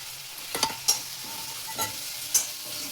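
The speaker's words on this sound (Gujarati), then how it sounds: "હવે એમાં નાખી દઈશું આપણે ડુંગળી ને કેપ્સિકમ." Chopped onion and capsicum hit hot oil for chilli potato chips, crackling and sizzling steadily up close, with a few sharper clinks and scrapes of stirring standing out over the frying.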